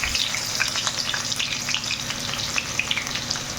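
Finely chopped onion sautés in oil in a pan, a close, continuous sizzle with light crackles and stirring, no voices.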